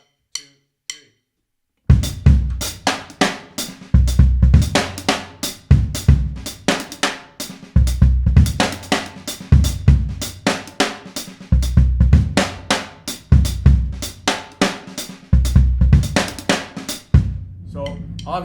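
A linear drum groove with some notes deliberately left out for an open feel, played on a kit with steady kick and snare hits and busy cymbal strokes, close and loud after a short quiet start.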